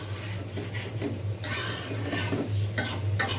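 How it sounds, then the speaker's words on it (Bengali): Taro stolons stir-fried with salted hilsa fish in a pan, a spatula scraping and clinking against the metal in irregular bursts over a steady low hum, with faint sizzling and no talk. "এখন একসাথে দিয়ে আবার লতিগুলোকে একটু কষায় নিব"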